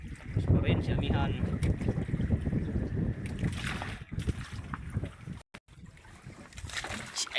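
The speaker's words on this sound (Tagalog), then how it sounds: "Alam lumakas yung amihan." Strong amihan monsoon wind buffets the microphone at sea, producing loud, irregular low gusts and rushing noise, with a brief dropout near the end and people talking faintly underneath.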